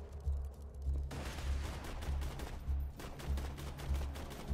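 Repeated gunfire from a slow-bullet gun in Borderlands 2, heard as a steady series of booming shots roughly every half second with low thuds, set against dense game noise and no talk.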